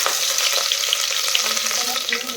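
Cumin seeds crackle and sizzle in hot oil in a home kitchen pan, a loud, dense continuous frying hiss with fine popping throughout.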